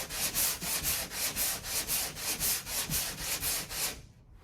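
Rhythmic back-and-forth sanding strokes over a drywall patch being smoothed before painting, about eight regular rasping passes, close and fairly loud, stopping abruptly at the end, no talking.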